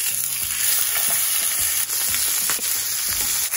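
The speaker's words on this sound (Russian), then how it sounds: "И аккуратно на раскаленную сковороду начинаем выкладывать наши котлеты." Burger patties sizzle loudly in a very hot frying pan over high heat, a dense, steady crackle with small pops throughout.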